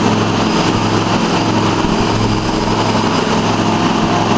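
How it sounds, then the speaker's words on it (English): The engine of a 2013 TRX-42 hydrostatic remote-controlled mower runs loud and steady at high throttle with the blade engaged, cutting grass on a steep hill, a constant dense droning roar with no speech. "I'll throttle down, engage the blade, throttle up. We're cutting grass."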